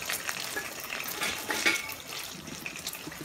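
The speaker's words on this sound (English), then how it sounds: "You're gonna fry that egg up." Scrambled egg frying in hot oil in a pan, a steady bright sizzle with scattered pops and crackles running throughout, close and fairly loud, with no talking.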